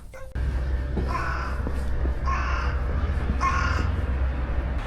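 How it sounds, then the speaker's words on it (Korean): Crows caw three times in slow succession, moderately close, over a steady low background hum, in a small Japanese town. "여기 동네에 까마귀들이 엄청 많이 날아다녀요"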